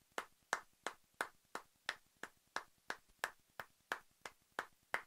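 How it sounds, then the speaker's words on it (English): A run of about a dozen sharp, evenly spaced hand claps celebrating a birthday, steady and quick, close and clear with no talk over them. "Let's give her a few claps for a birthday for Liz."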